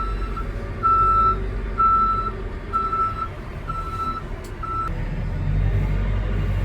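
A JCB 4CX backhoe loader reverses with six evenly spaced electronic beeps over a low, rumbling diesel engine nearby, the engine swelling slightly toward the end.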